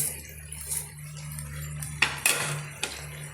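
A ladle clinks and scrapes in a pan while jaggery is stirred into a pumpkin curry, a few sharp metallic knocks over a low steady hum, close and moderately loud with no talk.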